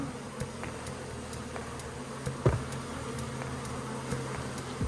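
Honeybees buzzing during a bee removal from a flat roof, a steady, fairly faint drone of many insects with occasional nearby passes and a brief louder burst, no talking.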